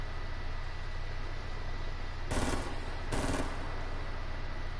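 Two short, loud bursts of gunfire from a game, separated by a brief gap, standing out over a steady low hum and hiss.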